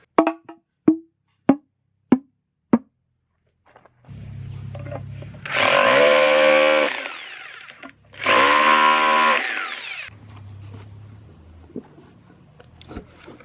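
Blocks are worked with a power tool to cut holes for tubing: a few sharp knocks, then two loud bursts of high, whining cutting a few seconds each, separated by a lower motor hum.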